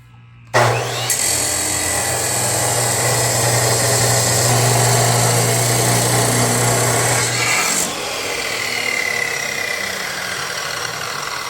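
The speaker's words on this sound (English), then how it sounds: "Just cut, measure, cut, and do that about 20 times" A power tool cutting salvaged steel from a repurposed table into pieces for truck rock armor. A loud, harsh, continuous grinding screech starts abruptly and holds steady, then eases off near the end while the motor keeps running.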